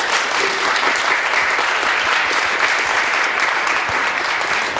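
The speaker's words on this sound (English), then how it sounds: "another round of hearty applause" Steady, dense applause from a large audience at a talk at the Newark Library, clapping continuously and evenly throughout without letting up.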